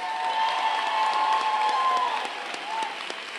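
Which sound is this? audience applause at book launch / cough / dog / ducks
audience applause at book launch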